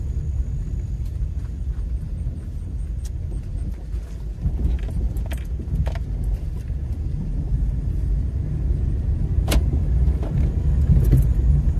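A car driving along the road on the way home after a storm chasing outing, with a steady engine and road rumble that builds slightly over time and no talking.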